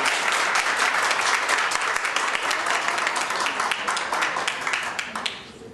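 Audience clapping at a city council meeting after a public speaker finishes, steady dense applause lasting several seconds before fading out at the end.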